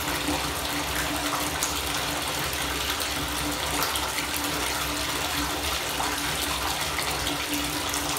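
Steady broadband rush of water pouring from a bathtub tap during a bath, loud and constant throughout with no voices.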